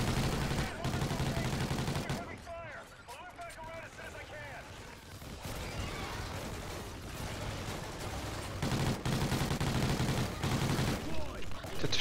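Rapid bursts of gunfire in Call of Duty: Ghosts Extinction mode crackle and pop across the clip, mixed with explosions and busy game effects, fairly loud and continuous.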